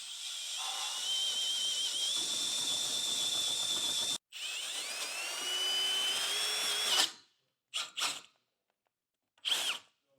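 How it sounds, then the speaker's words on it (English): A power drill with a step bit whines steadily as it bites through the metal of a 2025 Jeep for a base plate install, pausing once, then finishing with a few short bursts before stopping. "the step bit seems to cut through this metal a little bit easier"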